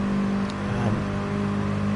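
Mini Cooper engine in the GT Sport racing game during a Mini Cooper Cup online race, a steady high revving whine held near constant with a brief pitch dip partway through, loud and alone.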